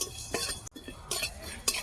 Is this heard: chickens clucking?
no